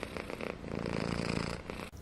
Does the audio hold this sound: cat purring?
yes